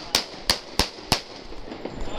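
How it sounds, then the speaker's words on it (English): Four sharp gunshots fired by police at a man armed with a knife outside a homeless shelter, evenly spaced over about a second, loud and close, followed by lower background noise. "Shots fired."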